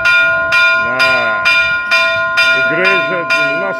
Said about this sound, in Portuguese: o sino da igreja sendo tocado